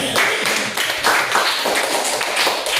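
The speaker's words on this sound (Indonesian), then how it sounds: "Tepuk tangan untuk kita semua." A classroom of students claps together at the end of a lesson, a loud, uneven patter of hand claps and taps with some thumps, close by and continuous for nearly three seconds.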